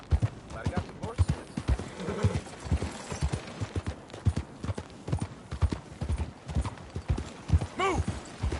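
Horse hooves clip-clop steadily through a Red Dead Redemption 2 game scene, with whinnies near the end, mixed under spoken dialogue throughout.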